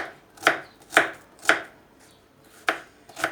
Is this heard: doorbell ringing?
no